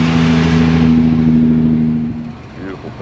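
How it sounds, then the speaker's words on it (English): A Maserati drives in at an outdoor classic car show in a park, its engine revving loudly and steadily nearby before easing off, with people talking over it. "Got the Maserati coming in."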